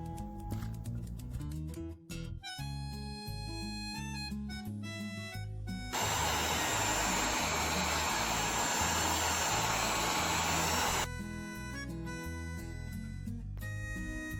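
Heat tool blowing hot air on a small crafted piece, a steady, loud airy roar that starts partway through and runs for several seconds under busy background music, then cuts off.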